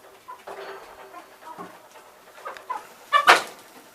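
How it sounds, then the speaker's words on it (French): A blue hen clucks in short, soft, irregular calls among other chickens, ending with a louder squawk near the close. "Voilà ma poule bleue."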